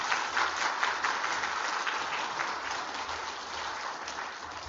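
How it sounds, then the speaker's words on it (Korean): A church congregation claps to welcome a guest preacher at a spring revival service, steady mid-level applause sustained for several seconds with no voices. "이 시간 우리 박수로 우리 환영하도록 하겠습니다."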